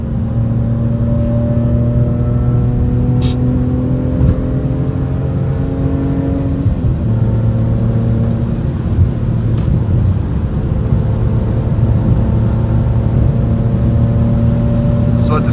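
BMW E46 M3 engine accelerating on the road, loud and close from inside the car, its pitch climbing steadily through the gears with brief shifts between pulls.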